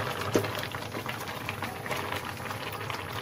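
Carrot barfi mixture with cardamom powder bubbles and cooks in a pan over a full flame, giving a steady, close, moderately loud boiling hiss with faint crackles and no talking.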